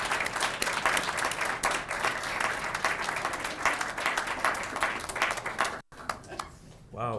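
Dense, rapid clapping fills a medical lecture hall at the close of a cardiology talk on heart valves. It is sustained and fairly loud, then breaks off abruptly, with voices mixed in.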